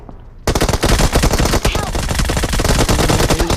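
Loud, dense automatic gunfire from PUBG Mobile, a continuous rapid stream of shots after a short quiet start, close and dominant throughout.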